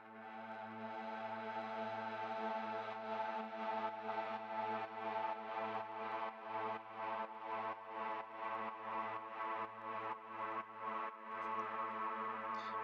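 Synth pad in Ableton sidechained by a kick, sustained chordal tone rhythmically ducking and swelling in a steady pumping pattern, loud and alone throughout.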